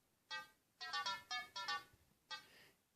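A synth bass from a Korg DSN-12 sequencer plays a short pattern of six or seven bright, buzzy notes with pauses between them, clear and alone.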